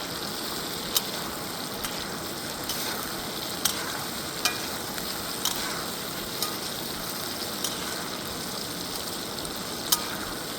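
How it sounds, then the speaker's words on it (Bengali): Mutton fat and meat sautéed with onion, cloves, cardamom, ginger and garlic paste for biryani at a hill campsite, a steady close sizzle with regular scraping stir clicks from a spatula against the pan. "কষানো হচ্ছে।"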